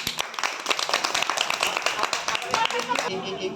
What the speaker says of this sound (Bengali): রিজুর জন্য একটু হাততালি